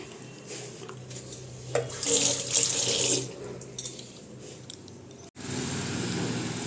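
Tap water runs into a kitchen sink as hilsa fish are washed, a steady splashing stream that swells louder, with a few clinks of dishes, then stops abruptly before a low hiss resumes.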